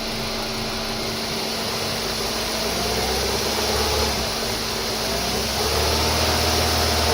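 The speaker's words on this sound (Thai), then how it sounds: "พร้อมทำงาน เล่นเครื่องหน่อยครับ" A Chevrolet Cruze idles with its air conditioning running during an AC service. The engine and blower make a steady, close, droning hum that holds evenly throughout, with no talk.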